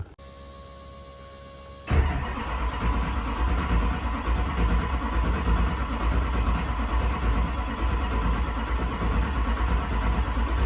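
A car with a dead battery cranks and fires up on a jump box after about two seconds of quiet, then settles into a steady, close idle rumble.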